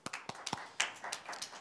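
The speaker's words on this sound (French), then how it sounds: "on applaudit Joey" A small audience at a Sunday evening children's church service gives brief, sparse applause, a handful of separate claps spread over a second and a half, fairly faint and with no one speaking.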